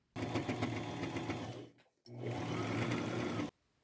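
A sewing machine straight-stitches denim with a denim needle in two close, loud continuous runs of fast even whirring, separated by a short pause.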